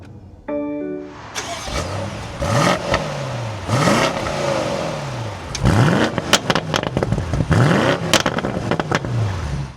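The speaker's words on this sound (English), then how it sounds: "Take a listen to that V8." A 2026 BMW M850i Coupe's V8 engine cranks to life via a start button and settles into a deep idle, punctuated by several throaty revs that rise and fall, loud and close.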